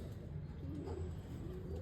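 Sialkoti female pigeons cooing softly and continuously, a low murmuring coo under a steady quiet background hum, fairly close.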